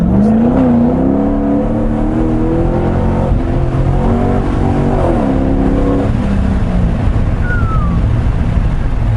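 A Corvette C6 Grand Sport V8 revs hard with loud, deep exhaust, the pitch climbing and falling through several throttle blips, then settling into a rough, rumbling idle; a close, continuous engine roar with no talking.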